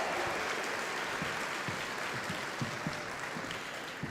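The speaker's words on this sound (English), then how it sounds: "please, one more round of applause for that amazing Hawaiian welcome." Sustained audience applause fills a large hall at the 2024 Pokémon World Championships in Hawaii, a steady dense wash of clapping with scattered louder claps, no voices over it.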